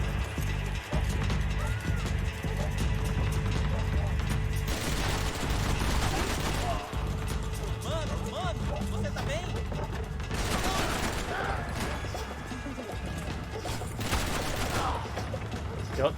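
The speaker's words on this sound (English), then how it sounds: "Max! Shoot your gun!" Video game gunfire from Max Payne 3 rattles in dense bursts around five, ten and fourteen seconds over a constant loud low background, with a voice talking throughout.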